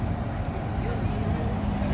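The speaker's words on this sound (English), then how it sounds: "And listen to that engine purr." Vintage public service bus idling at a heritage bus festival, its engine giving a steady low rumbling drone close by, even and unbroken throughout.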